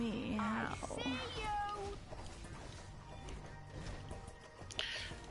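A cat meows several times in rising and falling wavering calls, fairly close, mixed with a person talking and a continuous background hum.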